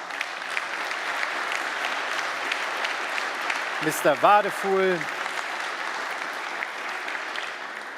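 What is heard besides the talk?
conference audience applauding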